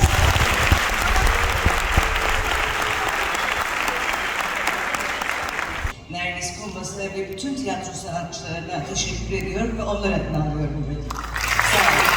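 An audience at a theatre awards ceremony claps in a long, dense burst of applause. Applause continues under a voice speaking over a microphone, then a fresh swell of clapping comes at the end.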